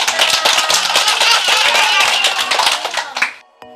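An audience applauds a child participant at a Cirebon community event, giving loud, dense, continuous clapping that fades out after about three seconds.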